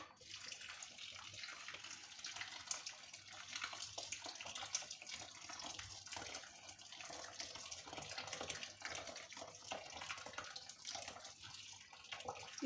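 Hot water poured steadily onto fresh rocket leaves and other ingredients in a kitchen, a continuous close splashing gush that runs unbroken from start to finish.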